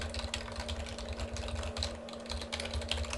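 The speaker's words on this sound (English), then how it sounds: "Keyboard." Rapid clicking keystrokes on a computer keyboard continue steadily up close, over a low steady hum and background noise, with no one speaking.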